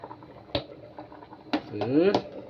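Bubbling and gurgling of a pot boiling close by, with a few clinks of a lid or utensil and a brief voice under it.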